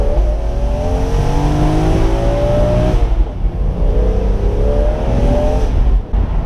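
A BMW M3 E46 Cabriolet with 343 hp accelerates hard through several gears, its loud, close engine climbing in pitch with brief dips at each jerky gearbox shift, and no one talking.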